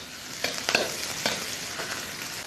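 Star anise, cinnamon, bay leaf, tsaoko, scallion and ginger fry in hot oil in a wok, giving a low steady sizzle broken by a few sharp stirring clinks.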